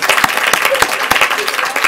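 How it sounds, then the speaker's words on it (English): A school board meeting audience claps in a loud, steady burst of applause, with individual sharp claps standing out and faint voices underneath. "He's clapping."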